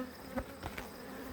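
Honey bees buzzing around small hive nucs being checked before winter, with returning foragers carrying white pollen; a soft, steady outdoor hum with faint passing buzzes and no talking.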